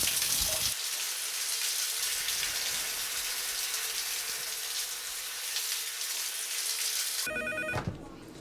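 A telephone rings while a homeowner calls a plumber about a leaking water heater, the electronic trill arriving near the end after a stretch of steady hissing noise.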